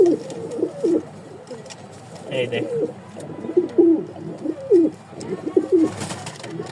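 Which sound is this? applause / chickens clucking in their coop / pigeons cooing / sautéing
pigeons cooing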